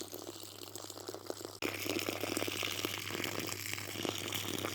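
Water trickles slowly onto dry, parched soil around plum trees during a drought in Serbia, a soft continuous wash of flow with no speech.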